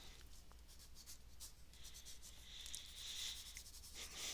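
Faint, steady rubbing of an eraser across a pencil sketch on paper, a soft continuous scrubbing that grows slightly stronger toward the end, with no talking.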